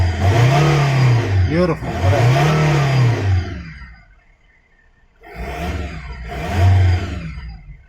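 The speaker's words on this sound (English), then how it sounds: "now I'm gonna have a look and I'm gonna rev it up" A warm Volkswagen Multivan diesel engine revs loudly in two rising-and-falling surges, drops to near silence, then revs twice more at close range; a voice speaks a single word.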